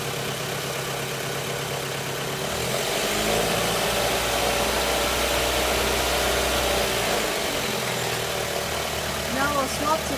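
A Toyota RAV4 engine runs steadily on a bench-test setup during EGR diagnosis, a continuous idle hum that rises slightly partway through as a little throttle is applied, close and fairly loud.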